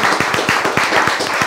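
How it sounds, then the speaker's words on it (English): A small audience claps for a panel speaker at a natural climate solutions session, a short, close burst of distinct individual handclaps in a loose, even rhythm. "Round of applause for you, Lee."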